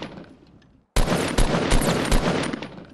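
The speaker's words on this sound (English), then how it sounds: "there's fucking explosions though" After a brief silence, loud Fortnite explosions erupt suddenly, a rapid series of sharp blasts over a continuous roar.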